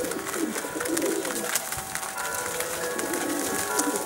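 Pigeons of the Greek ouzidika breed from Karditsa coo softly within a dense wash of outdoor bird calls and broad background noise, with no voices.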